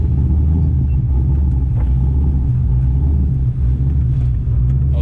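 A 1000 WHP Corvette engine sets off on a cruise, producing a loud, continuous low rumble from inside the car that holds steady throughout, with no voices.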